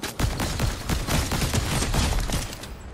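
Rapid gunfire from a Fortnite match, a dense run of repeated shots packed closely together and fairly loud throughout, with no talking over it.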